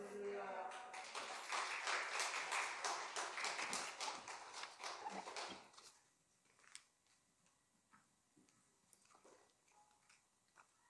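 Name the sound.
congregation clapping to welcome pastor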